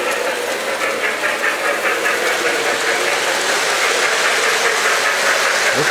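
A model Christmas train runs around a holiday display track, giving a continuous close whirring, rattling hum with a steady rhythmic clicking of wheels, no voices over it.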